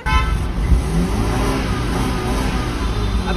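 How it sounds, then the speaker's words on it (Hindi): A car engine runs loudly and close by, a dense continuous rumble that hardly changes level, heard alone without anyone speaking. "इंजन की आवाज सुनाऊं क्या?"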